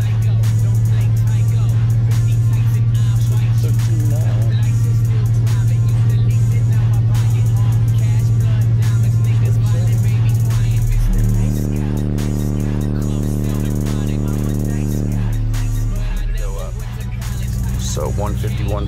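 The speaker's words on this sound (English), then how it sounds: "Rev it up real good for a second though." A car engine revs up and holds at high RPM, a loud steady drone that shifts pitch partway through, heard alongside a booming car audio system of 18-inch subwoofers on an Ampere 7500 amplifier during a loudness test.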